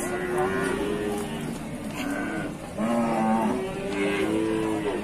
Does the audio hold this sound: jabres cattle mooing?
yes